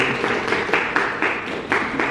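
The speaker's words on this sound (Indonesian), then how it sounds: "Oke, tepuk tangan buat Mbak." An audience at a lecturer certification training session claps for a presenter, producing a moderate, uneven patter of hands in short bursts without any talking.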